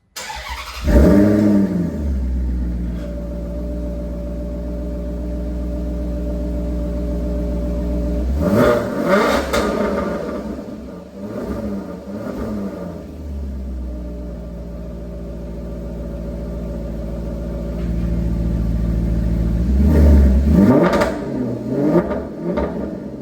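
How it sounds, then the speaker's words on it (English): A Maserati V8 fitted with aftermarket high-flow catalytic converters, driving around with loud throaty revs that swell, hold in a steady drone, then surge again near the end, no talk. "With the installed aftermarket high flow cats, just kind of driving around. This is what it sounds like."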